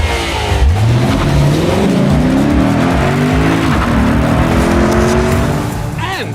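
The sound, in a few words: Lexus compact sedan naturally aspirated V8 engine revving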